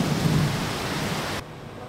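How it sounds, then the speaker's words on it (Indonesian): Heavy rain hisses steadily with low thunder rumbling beneath it, then cuts off abruptly partway through. "panas tiba-tiba nanti hujan"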